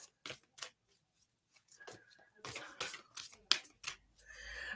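A deck of lesson cards is shuffled by hand indoors, heard close as irregular papery riffles and slides that grow busier toward the end, with faint talking in the background.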